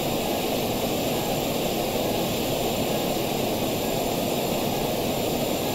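A simulated aircraft engine in the video game Stormworks drones steadily as the plane comes in to land, a continuous broadband roar with a faint high whine, holding constant loudness throughout with no voices.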